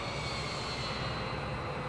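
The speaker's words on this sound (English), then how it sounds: "I don't think the plane likes that. That's a terrifying noise." A strained aircraft engine drones steadily in Microsoft Flight Simulator 2020 as the plane nosedives, a constant loud roar with a broad rushing hiss, heard alone without speech.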